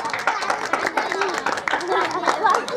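A crowd claps at a live Chhattisgarhi folk comedy stage show, with scattered uneven applause and lively chatter and talk mixed in throughout.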